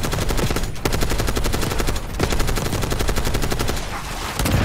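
Rapid, loud bursts of automatic gunfire from Call of Duty 6 hammer in close and continuously, broken by brief pauses, with no talking.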